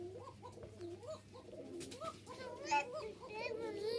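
Pigeons of a fancy biscuit-coloured breed, kept in pairs for sale, cooing in soft repeated rising-falling calls. Someone talks and children play nearby over a low steady hum.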